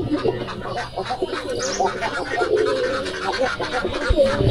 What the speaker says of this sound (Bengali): সফিজের কবুতর